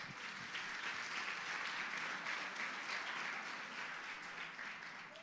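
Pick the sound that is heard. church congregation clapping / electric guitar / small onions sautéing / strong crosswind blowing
church congregation clapping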